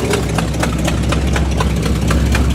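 Buick engine idling slowly and misfiring, a low steady rumble with a regular uneven pulsing beat and periodic stumbles, heard close and loud without any talking.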